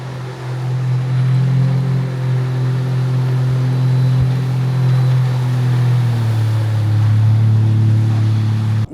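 TCM Titan 12-foot mini jet boat running on open water, its engine a loud steady drone with a slight pitch drop partway, mixed with rushing water and wind noise.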